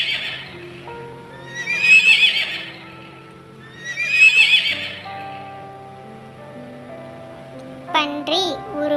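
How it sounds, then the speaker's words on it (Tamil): A horse gives two long, loud whinnying neighs a couple of seconds apart, with faint hoof clip-clop in the background and a short higher vocal sound at the end. "குதிரை கனைக்கும்."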